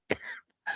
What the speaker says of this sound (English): sorry, I'm coughing too hard.